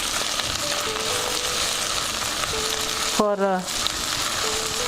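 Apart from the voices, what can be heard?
sauteing ginger garlic paste in a pan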